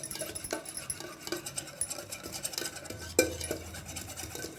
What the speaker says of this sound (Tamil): இதை நல்லா பீட் பண்ணிக்கோங்க